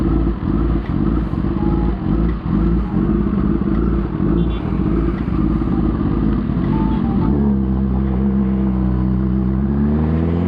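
A motorcycle engine roars loud and close during wheelie riding, holding a rough, steady drone before the revs climb sharply in rising sweeps near the end.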